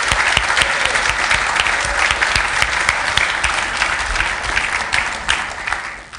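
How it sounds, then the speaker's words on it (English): Loud, dense applause from a room full of people at a Linux Australia annual general meeting, for outgoing council members, steady for several seconds before tapering off at the end. "So a round of applause for any of the outgoing council members"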